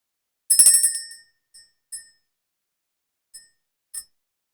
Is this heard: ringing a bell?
yes